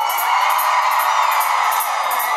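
Large festival crowd cheering and yelling together in the Independence Day cry in Zitácuaro, a loud, sustained roar of many voices with bright whoops throughout, no single talker standing out.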